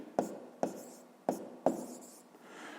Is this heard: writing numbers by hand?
yes